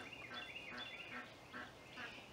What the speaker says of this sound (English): Check in on the chickens for a second.